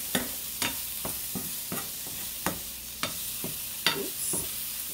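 Mushrooms sautéing in a pan, a steady soft sizzle broken by regular scraping stirs about every half second, close and moderately loud with no voices.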